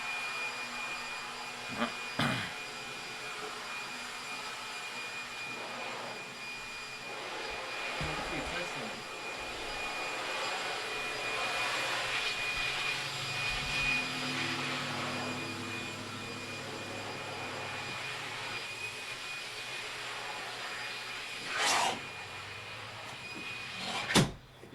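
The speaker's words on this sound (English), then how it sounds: "Someone is vacuuming." A vacuum cleaner runs somewhere nearby as a steady, slightly distant whirring drone that holds throughout, with a few brief knocks and thumps on top.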